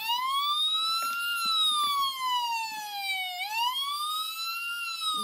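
A toy vehicle siren from a plush toy wails, sweeping up and down in pitch continuously, loud and clear with no other sounds.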